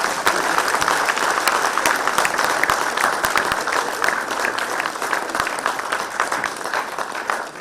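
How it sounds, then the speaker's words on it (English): Conference attendees at a national meeting on farmer-herder relations in Nigeria applaud a general's introduction, sustained crisp clapping filling the hall at steady volume. "So we welcome with a sounding round of applause, General Patrick Luther Angwani, please."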